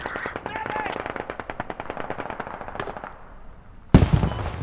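Rapid automatic gunfire rattles in the video game Squad as a close burst of evenly spaced shots that fades out, then a sharp loud blast hits near the end.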